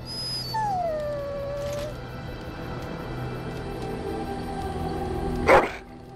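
A dog in the Dragon Age camp lets out drawn-out whimpering and howling cries over a low game-ambience hum, the calls sliding down in pitch and fading, then a sharp louder burst near the end.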